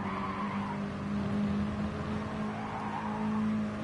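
Mini Challenge race cars braking into a corner at Monza, a steady close engine drone with tyre noise and a rising whine, loud and unbroken throughout.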